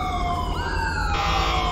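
Ambulance siren in the video game GTA 5 with the LSPDFR police mod, a loud continuous wail sliding up in pitch and holding, close and alone with no talk.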